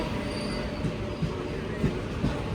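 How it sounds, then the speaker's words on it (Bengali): A passenger train rolls into a station platform in Kolkata, a loud steady rumble of wheels on rails with rhythmic clunks from the carriages and a faint high squeal. "ফাইনালি আমাদের ট্রেন চলে এসেছে"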